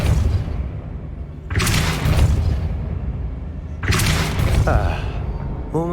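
A spell blast in Hogwarts Legacy goes off twice as sharp, booming broadband bursts with a crumbling tail. Quieter game ambience fills the gaps between the bursts.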